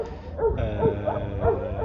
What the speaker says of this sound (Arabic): الكلب ده من انتاج كابتن احمد حسيب.